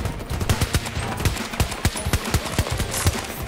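Rapid gunfire from a video game weapon, a quick run of sharp shots at an uneven rhythm, close and loud, with no talking over it.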